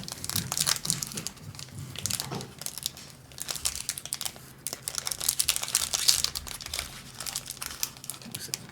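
Foil wrappers of trading card collector booster packs being torn open, producing loud, continuous close crinkling and crumpling with sharp rustles throughout.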